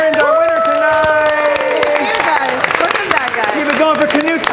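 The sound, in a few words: audience applause for the winner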